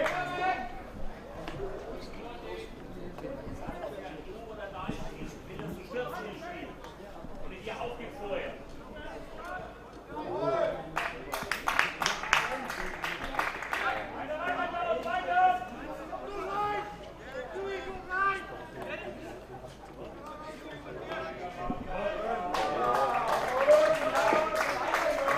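A crowd at a Grand Masters over-60 hockey match between Scotland and Germany, with chatter, clapping and cheering that swell in waves and grow louder near the end, heard beneath a commentator's steady talk.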